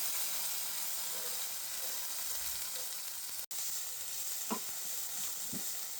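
Fennel seeds, green chilli and chopped tomato fry in a little oil with a constant close sizzle and hiss, broken by a few light stirring knocks, with no talking.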